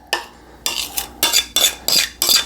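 A utensil stirs pumpkin bar batter in a bowl, giving six close, loud scraping strokes in a steady rhythm with short pauses between them.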